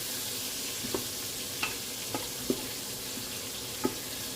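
Meat browning in a pan for homemade soup gives a steady, fairly quiet sizzle, broken now and then by brief clinks or scrapes of stirring.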